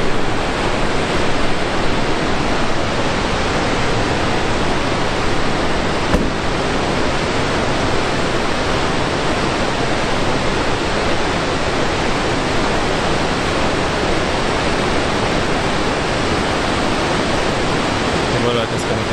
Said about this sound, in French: Voilà la cascade en question. Oh, quel débit magnifique.